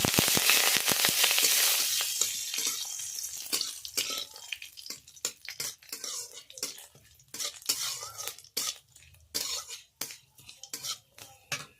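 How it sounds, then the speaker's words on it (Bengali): Dried chilies frying in oil with five-spice and curry leaves for a sweet-sour tomato dish. A loud sizzle opens and fades over the first few seconds, followed by irregular clinks and scrapes of a spatula stirring in the pan, with no talk. "ওর মধ্যে দিয়ে দেব 5 ফোড়ন, দিয়ে দেব ক্যারি পাতা, ভালো করে ভেজে নেব।"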